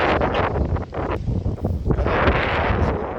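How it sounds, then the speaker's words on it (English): Strong wind at Bluestone Dam by the water, a loud continuous roar buffeting the microphone with gusty swells, no voices. "You can still hear the wind."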